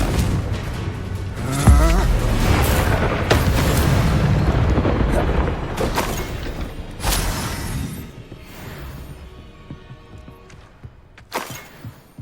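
A Confringo blasting spell explodes in the Hogwarts Legacy video game with a loud, booming burst, followed by crashing debris and rumbling impacts that fade over several seconds into scattered smaller thuds.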